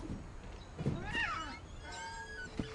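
A black cat gives a faint, drawn-out meow with a rising then falling pitch, followed by a softer second call, heard quietly against low background noise.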